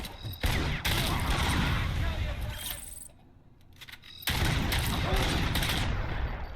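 Rapid gunfire in RoboCop: Rogue City, loud close bursts of shots crackling continuously, pausing briefly in the middle before resuming just as dense.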